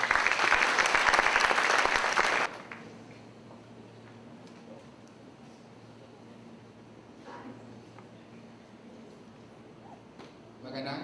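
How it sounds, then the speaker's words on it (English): Loud applause from an audience at a university lecture event fills the opening two seconds, cutting off sharply to a quiet room with faint low hum and a brief stir near the end. "Let's give him a warm applause."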